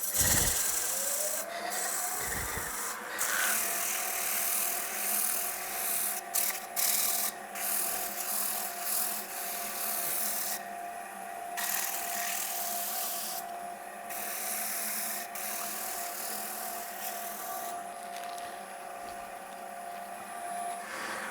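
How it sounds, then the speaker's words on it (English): Steady abrasive rubbing of sandpaper against a spinning wooden bowl on a lathe, a continuous close whirring hiss with the motor hum underneath. "Then we can start going through the sanding procedure as we did on the outside diameter."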